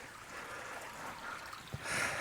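Water trickles steadily down a small backyard pond waterfall built of rocks and pebbles, a soft continuous splashing with a brief low knock and a brighter gush near the end, no voices.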